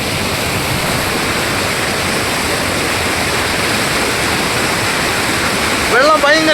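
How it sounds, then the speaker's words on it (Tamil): Strong rushing water pours continuously at Aruvikkarai waterfall in Kanyakumari, a loud, steady roar of heavy current filling the whole clip, with a brief voice breaking in near the end. "வெள்ளம் பயங்கர இழுப்பு கேட்டியலாம்."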